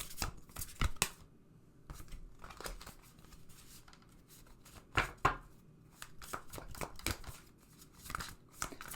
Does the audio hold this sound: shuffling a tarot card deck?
yes